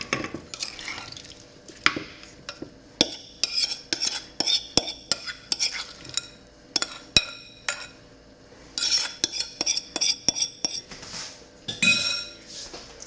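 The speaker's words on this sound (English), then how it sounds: "I am going to add in my rhubarb strawberry mixture." Rhubarb strawberry mixture is spooned into an 8x8 pan, making a run of close clinks, scrapes and wet taps of the utensil against the pan and bowl in an irregular rhythm, with no talking.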